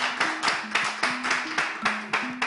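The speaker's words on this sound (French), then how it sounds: "Est-ce qu'on peut applaudir, s'il vous plaît, Les Kamikazes?" Rhythmic clapping for the dancers Les Kamikazes, steady evenly spaced claps repeating close and clear, with a faint tonal hum running beneath.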